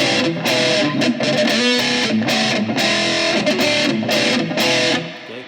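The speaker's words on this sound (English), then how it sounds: "the descending lick's going to sound like this" Distorted electric guitar playing a descending lick, a loud, gritty run of dyads stepping downward in short rhythmic bursts, played alone.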